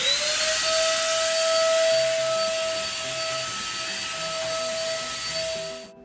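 An electric paint sprayer loaded with chalky paint runs with a loud, steady whine and hiss that holds constant for about six seconds before cutting off at the end.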